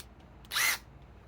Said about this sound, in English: I'm running these little 1 inch sheet metal screws.